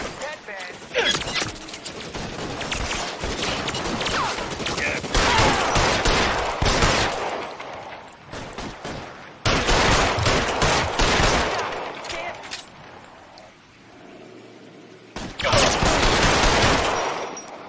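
Gunfire in the video game L.A. Noire, rapid bursts of shots and fusillades in loud clusters separated by short pauses, with voices shouting over parts of it.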